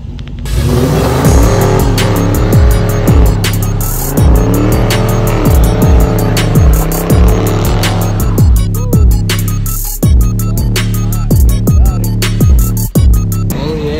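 A Mustang and a Challenger doing burnouts with traction control off, engines roaring and revving loudly while tires squeal continuously, with sharp repeated revs and a brief drop near the end before the screeching resumes.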